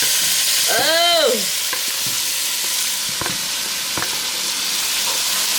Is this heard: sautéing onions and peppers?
yes